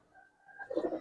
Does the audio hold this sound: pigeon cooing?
yes